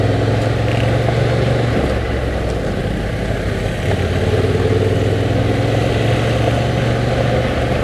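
Honda Transalp motorcycle riding over gravel, a steady droning engine under a constant wash of tire and wind noise, loud and close throughout with only slight shifts in pitch.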